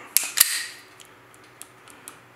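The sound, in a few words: FN FNS 40 pistol trigger dry-fire click, empty magazine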